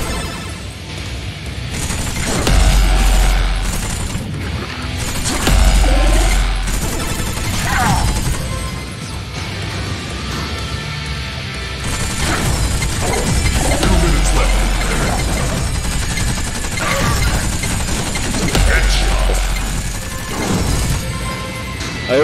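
Sniper and trooper gunfire in the Ready Player One Oasis Beta shooter game: loud, busy bursts of shots and crashing impacts that keep going throughout, with occasional deep booms and some speech mixed in.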